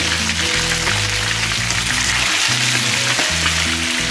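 Chicken wings marinated for a cream and loroco dish browning in batches in hot oil, giving a steady, dense sizzle and crackle that stays loud and close throughout with no talk over it.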